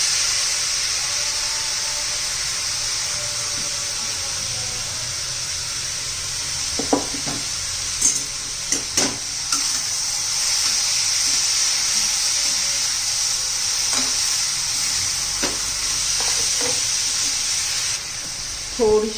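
Rice with a quarter cup of jaggery sizzles and steams steadily in a pan for coconut sweet rice, with scattered spoon scrapes and clinks as it is stirred, no voices.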